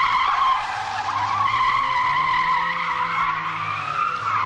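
A car with a broken gearbox skids and slides around during a chase, its tires squealing in a long, loud, wavering screech over a low engine drone.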